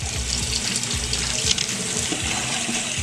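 Hot water runs from a tap into a sink, a steady close splashing hiss with a bubbling, gurgling low end that continues evenly throughout, with no speech.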